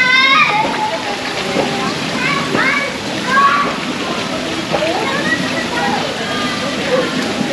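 Water splashing and sloshing at a forest stream at Nagcarlan Forest Resort, a steady wash of moving water with children's voices and chatter calling out over it.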